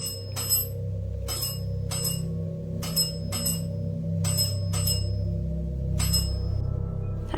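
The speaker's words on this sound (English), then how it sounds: "I'm so glad you're having fun with the bell." A small bell rings in repeated bursts, about eight rings spaced irregularly over several seconds, bright and fairly close, over a steady low hum in a hotel room.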